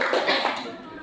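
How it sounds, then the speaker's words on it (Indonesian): A religious gathering before breaking the fast erupts in a short burst of audience applause, quick and dense at first and then fading, with a voice over it. "Tepuk tangan dulu buat kita semua."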